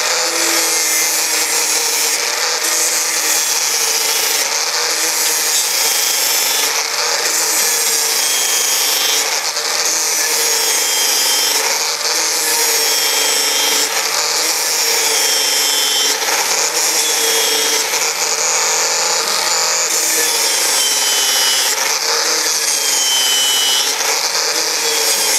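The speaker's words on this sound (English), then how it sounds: "This is how I'm grinding it." A grinder works a bevel on stainless steel pipe during weld prep, a loud, steady abrasive whine with rhythmic rises and dips as it passes over the metal, up close and without talk.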